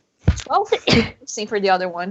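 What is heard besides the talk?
sneeze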